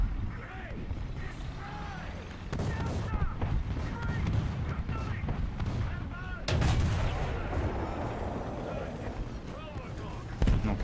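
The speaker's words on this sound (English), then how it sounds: "my artillery dropped nicely, though" An artillery strike lands in a video game, heard as a series of heavy, booming impacts with rumbling blasts and sharp bursts over dense battle noise, while a voice talks over it.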